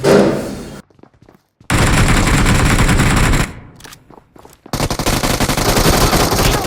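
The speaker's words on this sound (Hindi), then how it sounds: "ये दोनों फायर करते हैं मिलके, ये मुझे नॉक कर देते हैं" Gunfire in the mobile battle game PUBG Mobile: loud bursts of automatic rifle fire, with two shooters firing together, broken by short gaps and a quieter stretch, then resuming in a dense, sustained volley.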